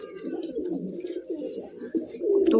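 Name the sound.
pigeons cooing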